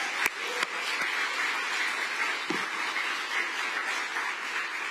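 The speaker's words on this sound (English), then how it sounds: "One more round of applause for everybody that spoke today." An audience at a corporate office announcement event claps steadily and fairly faintly, the applause holding level throughout without voices over it.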